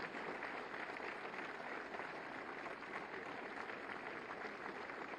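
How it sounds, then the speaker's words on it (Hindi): Steady, continuous applause from an audience at a ceremony handing out appointment letters to homeopathic pharmacists, an even wash of many hands clapping at a distance, quiet and unbroken throughout. "तालियां रुकनी नहीं चाहिए"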